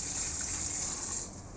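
Rainwater poured from a container over potted oregano plants in a garden, a steady close gushing splash of water that tapers off slightly toward the end.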